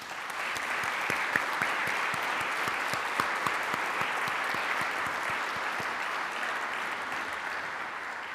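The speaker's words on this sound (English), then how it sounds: "Please join me in a round of applause for Auntie Lowitja" Sustained applause from an audience at the Lowitja O'Donoghue Oration, a dense steady roar of many hands clapping with scattered louder claps, filling the space evenly throughout with no talk.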